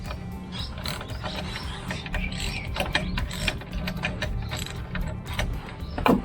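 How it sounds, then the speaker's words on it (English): A hand ratchet tightens the rear axle nuts on a Triumph Tiger 900 GT Pro motorcycle, giving rapid bursts of close, crisp clicking with short pauses between strokes. "What I will do now is tighten one side at a time."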